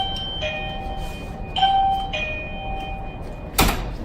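An electronic chime rings out in several bright tones as a child's door is opened again, set against a steady low hum, and a sharp knock-like thud follows near the end.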